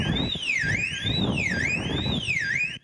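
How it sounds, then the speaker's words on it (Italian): A burglar alarm siren at a jewelry shop in the town centre of Casale sul Sile sounds at night, a loud, close electronic wail sweeping up and down in a repeating cycle over low background rumble. "La sirena di allarme è risuonata di notte in pieno centro a Casale sul Sile."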